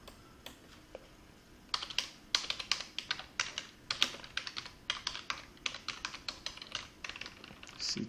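Rapid keystrokes on a computer keyboard as a file name is typed, a close, dry run of clicky taps in bursts with short pauses, alone in a quiet room.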